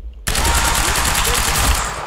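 Sustained rapid automatic fire from an SMG submachine gun in the video game Quantum Break, a loud continuous burst starting abruptly after a brief quiet moment and running to the end, with voices underneath.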